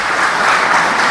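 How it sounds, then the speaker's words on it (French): Steady applause fills the room: many hands clapping at once in a dense, even roar with no break. "On applaudit à votre effort pour le cas d'exemple."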